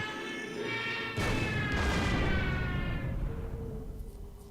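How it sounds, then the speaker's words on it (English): Enemy fighter planes strafing in the World War II strategy game Order of Battle: Battle of Britain, a sudden loud burst of rolling gunfire and booming impacts that swells and slowly fades under a droning engine tone, with no talking. "Some enemy fighters flying over southeastern England, but they're strafing."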